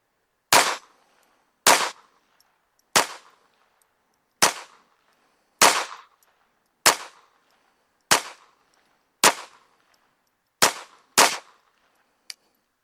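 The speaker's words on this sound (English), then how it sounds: "Let's shoot a group at that top left target." A Taurus TX22 .22 pistol fires ten sharp, loud shots outdoors in the rain, spaced roughly a second apart with a quick double near the end and silence between.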